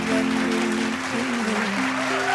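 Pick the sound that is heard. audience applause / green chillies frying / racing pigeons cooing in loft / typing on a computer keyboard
audience applause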